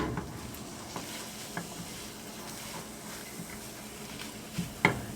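Seasoned eggs being stirred and folded in a hot pan, a soft low sizzle under scattered light scrapes and taps of a utensil, faint and steady with no talk.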